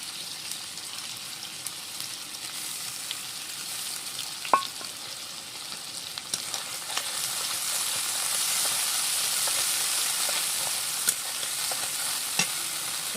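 Poppy seed paste hitting a hot pan for prawn malai curry: a continuous bright sizzle that swells partway through, with scattered clicks and scrapes of stirring, close and steady, no voices.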